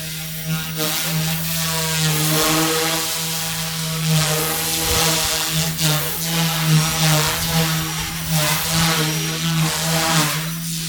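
A Goosky S2 Ultra RC helicopter's rotor spins at a steady, fairly slow speed, giving a constant droning whir with a strong hum and buzzing motor whine, close by and continuous throughout.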